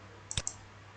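A single crisp mouse click ticks an agreement checkbox while an account is registered on the Kelase LMS e-learning platform; the click is short, fairly quiet and close, with a couple of faint lighter clicks around it.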